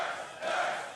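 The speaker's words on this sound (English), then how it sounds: "Sounds like Curse do have the local crowd supporting them" A local arena crowd at an LCS League of Legends playoff match roars briefly in support of Curse, a dense, distant swell of cheering voices.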